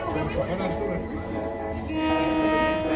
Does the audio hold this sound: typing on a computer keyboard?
no